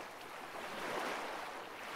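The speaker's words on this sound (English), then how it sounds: "The waves rolling in" Ocean waves roll onto a private beach in a steady, broadband wash of surf with a soft rise and fall, heard alone at fairly low level with no voices.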